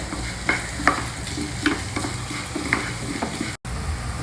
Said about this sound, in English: First fry these ingredients till the dals are well roasted.